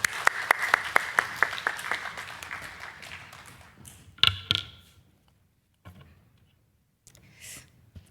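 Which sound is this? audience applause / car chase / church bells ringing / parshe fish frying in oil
audience applause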